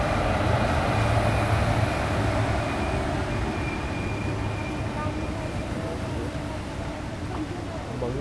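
A passenger train running from Mangalore Central to Coimbatore in heavy rain gives a loud, continuous rolling rumble with steady wheel and carriage noise throughout.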